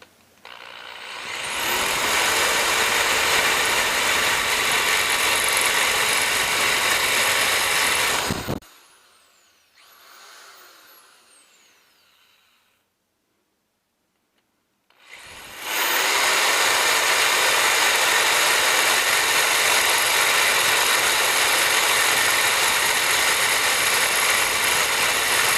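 A power drill fitted with a water-lubricated, water-cooled bit whines loudly and steadily for several seconds, stops briefly, then runs again in a long continuous stretch.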